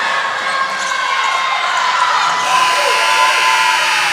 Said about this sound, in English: Scoreboard goes off. Buzzer sounds.